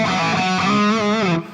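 A distorted guitar preset on an MVave Tank-G effects unit, one sustained buzzy chord ringing loud and close, wavering slightly before being cut off abruptly.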